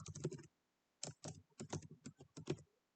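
Typing code on a computer keyboard: bursts of quick, close key clicks in several clusters separated by short pauses, with no voice.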